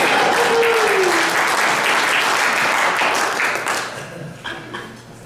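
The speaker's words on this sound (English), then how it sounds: "Where I come from, usually people show appreciation by clapping right at this point." An audience at a Peoria magicians' club claps after a rope magic trick. The applause is loud, close and dense, holds steady, then thins into scattered claps near the end.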